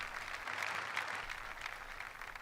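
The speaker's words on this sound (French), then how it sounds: "Applaudissons pour Jésus-Christ." Church congregation applauding, a steady dense wash of clapping from many hands that holds evenly at moderate level throughout with no voices over it.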